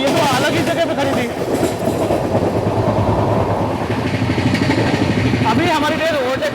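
Mumbai Ahmedabad Double Decker Express, train 12931, runs on rails with a steady loud rumble and rhythmic clatter as it overtakes another superfast express, with voices talking over it.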